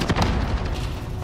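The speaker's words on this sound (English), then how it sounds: "I'm throwing grenades" A deep, rumbling grenade blast in Call of Duty on Rebirth Island, a brief booming burst that rolls on for about a second.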